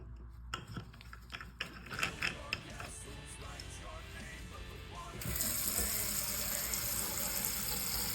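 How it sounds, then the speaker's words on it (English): A plastic drain cap is screwed back onto a bathroom sink, giving scattered clicks, creaks and ratcheting scrapes under a steady hiss of running water, which swells louder and brighter partway through. "Now let's put the cap back."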